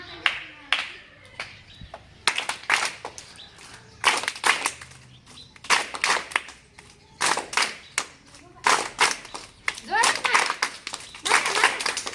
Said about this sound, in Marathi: पहिल्या टाळीचा प्रकार आहे चिक क्लॅप